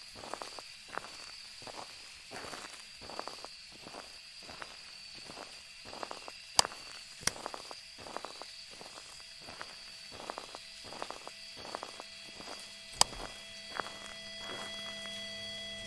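In the video game Phasmophobia, steady rain and wind hiss with a shrill chorus of crickets, while regular soft thumps pulse underneath and a couple of sharp clicks stand out.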